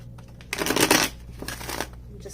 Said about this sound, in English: Let me actually take a moment to just sort of kind of shuffle these into the deck.